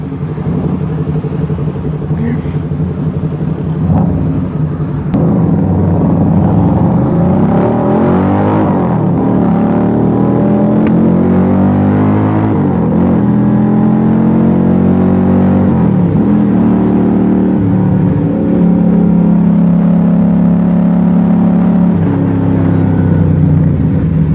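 Keeway 250cc V-twin motorcycle engine revving and pulling through gears on a test ride, a steady loud drone with rising and falling pitch sweeps, joined by a second small sport bike, with wind noise throughout.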